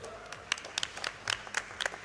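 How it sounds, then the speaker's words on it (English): Audience applause at an SGDQ 2017 speedrun marathon, a scattered, fairly quiet patter of clapping with a few sharper individual claps rising over a low room murmur. "Says, yeah, you can clap. Go ahead."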